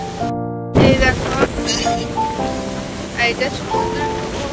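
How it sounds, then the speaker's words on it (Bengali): Rough, churning sea waves on Tajpur beach, a loud continuous surf wash with wind buffeting the microphone and a person talking over it. "এইটা তাজপুর বিচ।"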